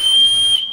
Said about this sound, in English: I'm going to give you a quick test of the whistle.